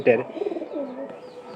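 Pigeons in nest boxes giving a short, close, throaty coo, a brief burst followed by a softer rolling murmur that fades within a second or two.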